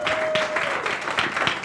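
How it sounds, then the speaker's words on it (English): A church congregation gives a standing ovation, with steady, dense applause filling the room at close range throughout. "Standing ovation means you stand and you begin to clap."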